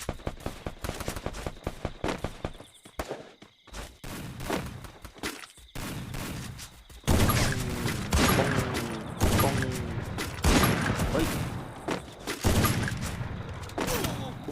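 Guns fire in the video game Free Fire in rapid automatic bursts and single cracking shots, loud and close, with a brief lull before denser volleys, under a voice talking.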